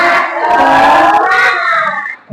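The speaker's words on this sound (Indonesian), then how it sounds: "Tepuk semangat" Elementary classroom doing the first rhythmic spirit clap routine, with loud group chanting and shouting from the children filling the short burst almost continuously, then cutting off briefly at the end.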